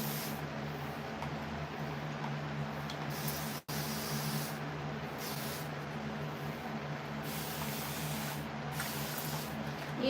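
A spray bottle misting water onto hair gives a long, steady fine hiss that runs for several seconds, with one brief break partway through. It sounds close and even, with no talking.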